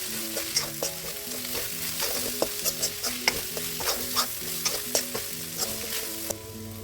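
Okra stir-fried with chili powder, salt and a pinch of garam masala in a pan, continuous close sizzling with rapid rhythmic spatula scrapes and clinks, no talking.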